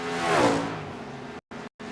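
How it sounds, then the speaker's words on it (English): A race car roars past on the Phoenix Speedway track, swelling and then fading as it passes, followed by two brief cutouts and the sound of another approaching car. "we have a slow car on the racetrack, Evan."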